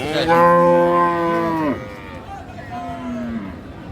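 Cattle at Raniganj cattle market in Dinajpur: a loud, long nearby moo, then a shorter, lower one, with people talking faintly around.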